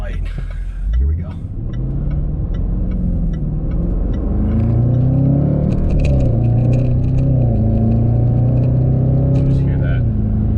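2021 Range Rover Sport SVR accelerating hard from a stop with exhaust valves open, a loud rising engine roar climbing through several gear changes, heard from inside the cabin with brief talk over it.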